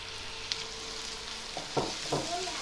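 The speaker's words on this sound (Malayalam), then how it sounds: "നമ്മൾ നല്ലതുപോലെ ഒന്ന് വഴറ്റുക" Small shallots sautéing in a pan, a continuous even sizzle close by, with a few brief spatula scrapes and stirs near the end.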